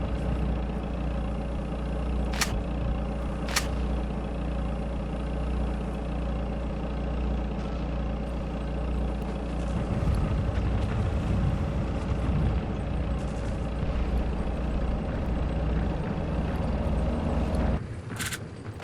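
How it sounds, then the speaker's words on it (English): A vehicle engine in the Sniper Elite video game drones steadily as it approaches, a low rumbling hum that grows a bit heavier midway, punctuated by a few sharp clicks. "now I hear the vehicle"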